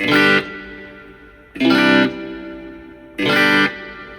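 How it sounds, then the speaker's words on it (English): Three strummed guitar chords about a second and a half apart through a Wampler Catacombs pedal on its hall reverb setting, delay off, each followed by a smooth, lingering reverb tail that fades slowly. "Delay is now turned off. We're in reverb mode only, so here we go."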